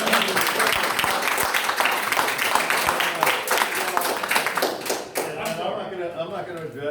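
Audience clapping at a city council meeting, dense applause for about five seconds before thinning out, with voices talking alongside.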